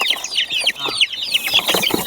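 Peruvidai (Aseel breed) chickens cluck and chatter in quick, overlapping bursts, close by and fairly loud, with no talking.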